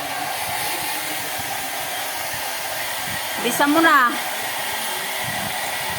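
A hair dryer blows steadily to dry a freshly bathed small dog, its loud continuous whoosh running throughout, while a person briefly speaks near the middle.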